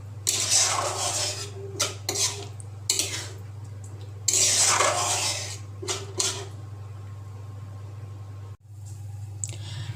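Paneer stirred in a pan, with a spoon scraping and clinking against the metal in repeated bursts over a steady low hum, close and fairly loud, no talking.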